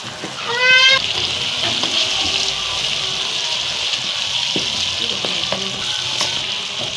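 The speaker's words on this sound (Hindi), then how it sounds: "हमारा चिकन ब्राउन हो रहा है" Chicken frying and browning with onions, a loud, dense, continuous sizzle with occasional stirring knocks, up close and steady throughout, with a brief squeaky rising tone near the start.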